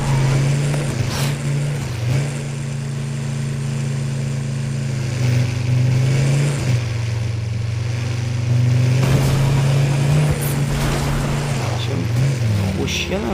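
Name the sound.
car engine revving in Fortnite video game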